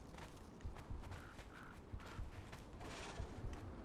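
Faint, irregular hoof clops from a horse in a survival video game sound over a quiet background rumble.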